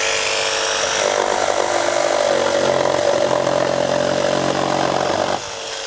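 Milwaukee M12 Fuel cordless jigsaw at highest speed in full orbital mode, cutting through thick timber at its maximum depth, a loud continuous rasping buzz that drops away near the end, with no talking.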